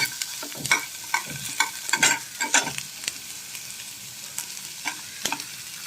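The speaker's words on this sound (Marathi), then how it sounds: "कांदा परतवते, बरोबर टॅमॅटो" Onion and tomato sautéing in a pan for a mixed vegetable dish, with a steady soft sizzle broken by repeated scraping stirs of a spatula against the pan, close and fairly loud, no talking.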